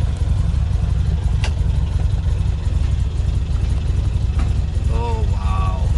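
A 1.8L carbureted Toyota Corolla engine idles steadily with a constant low rumble, while a person talks briefly over it.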